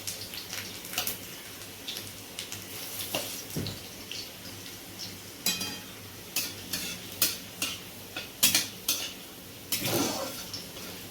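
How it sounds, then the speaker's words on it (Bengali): Garlic fries in oil in a pan, a soft sizzle beneath intermittent scraping and clinking strokes of a spatula against the metal, close but fairly quiet, with no talk. "এরপর রসুনটাকে ভাজা হচ্ছে"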